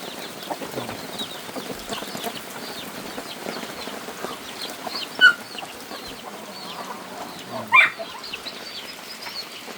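Chickens and a rooster feed on food scraps and dishwater leftovers, with soft scratching and faint clucks under steady background noise, plus two brief louder flaps or bursts.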